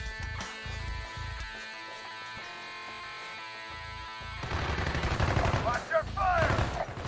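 Gunfire from the video game Call of Duty: Black Ops, with rapid bursts of automatic weapon fire that grow louder and denser toward the end, mixed with game effects and a voice talking over it.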